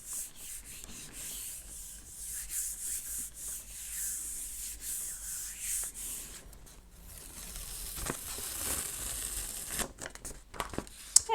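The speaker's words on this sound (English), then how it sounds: "I'll pick up the rest of that with just a plain piece of paper" Plain paper is rubbed by hand over a gel printing plate to lift leftover paint, a close, continuous scuffing and rubbing with crinkly rustles and a few sharper scrapes near the end.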